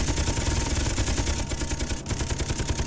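Ship guns blaze in Funship Battle with dense, rapid, continuous gunfire. The shots blur into a loud, unbroken clatter with a brief dip near the end.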